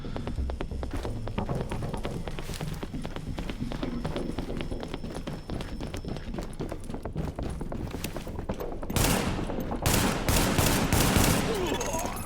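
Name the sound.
Magnum pistol gunfire in the video game The Division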